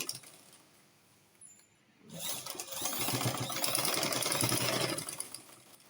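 A sewing machine stitches a loop onto a gown, starting after about two seconds of near quiet and then running as a loud, steady mechanical whir with rapid needle clatter to the end.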